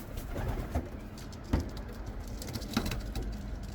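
A racing pigeon coos softly at a loft during race arrivals, with light patter and rustling all through and a few sharper taps.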